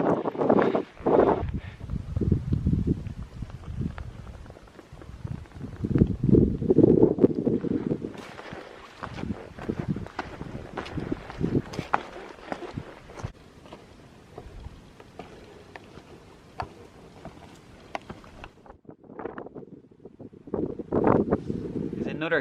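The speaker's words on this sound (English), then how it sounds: "it's very exposed around here, very windy" Strong wind gusts buffet the microphone at an exposed mountain spot on a remote Irish trail, with loud rumbling surges that ease and return, and a voice talks at times.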